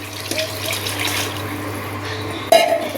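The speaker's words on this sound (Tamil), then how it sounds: "3 டம்ளர் அரிசிக்கு 6 டம்ளர் தண்ணி வைக்கிறோம்" Water pours steadily into a cooking pot for rice biryani, a continuous splashing rush that ends with a brief louder clank near the finish.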